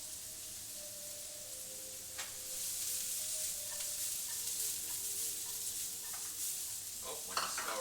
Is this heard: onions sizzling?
yes